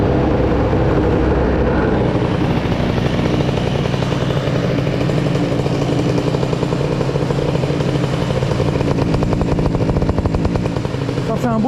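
A derestricted Yasuni C30 moped is kick-started and runs, its small two-stroke exhaust buzzing loud and close, rough and continuous for about twelve seconds with slight revving near the end.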